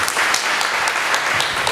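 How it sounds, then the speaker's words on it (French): Dense audience applause at a French-language conference presentation, steady many-handed clapping filling the whole moment, loud and close. "on applaudit, on applaudit."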